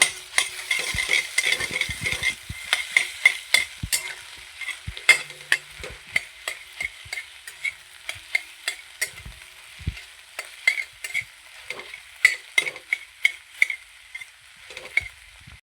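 Egg with butter sizzles in a hot pan for chicken fried rice, a bright steady frying hiss broken by repeated sharp scrapes and taps of a spatula stirring, close up, with nobody speaking.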